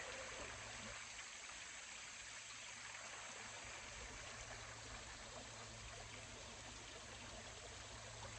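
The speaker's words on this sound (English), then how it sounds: "Isn't the sound of moving water just lovely?" A steady, continuous rush of flowing water, close by and unbroken, with no voices over it.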